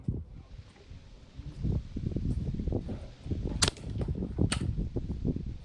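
A Crosman 160 .22 calibre air rifle fires with a sharp crack, followed by a second crisp snap, each standing out over a low rustling, shuffling background outdoors.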